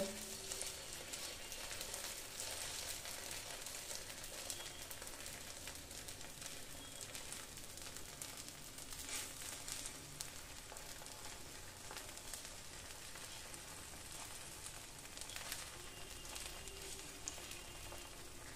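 Green pea pancake batter sizzles in a frying pan, a continuous faint crackling hiss that stays even throughout, with no voices heard.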